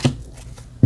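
Tarot-style cards shuffled and handled during a card reading, two short close riffling bursts at either end of a brief quiet gap.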